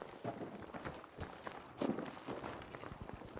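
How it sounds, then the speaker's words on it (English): Players' footsteps while pushing in during a Battlefield V 5v5 squad conquest match, heard as quiet, irregular treads and scuffs with a few louder steps near the middle, under a low background wash. "a lot of footsteps. You're going to be able to hear these players pushing in and trying to retake on these sites"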